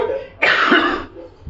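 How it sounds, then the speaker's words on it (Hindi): A single harsh, close cough burst lasting about half a second, loud against a quiet room, with faint background murmur before and after. "सभी खांसी शुरू हो रही"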